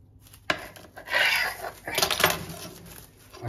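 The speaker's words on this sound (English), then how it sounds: "let me get a knife and just cut this open." A knife cuts open a baked Camembert Wellington in flaky pastry, giving a sharp tap followed by crackling, crunchy slicing and scraping close by, with faint talk in the background.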